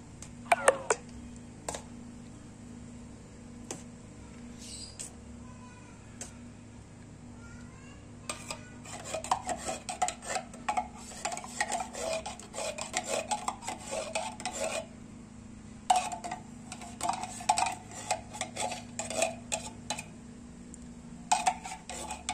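Buko salad being stirred and mixed in a bowl, with repeated scraping, clinking and rubbing of a utensil against the bowl in irregular bursts, close and moderately loud, with quieter pauses between.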